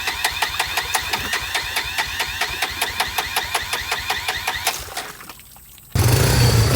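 Honda motorcycle, a 300 with a snorkel fitted, running with a steady rapid engine pulse, then the revs drop briefly before a loud burst of louder roaring near the mic.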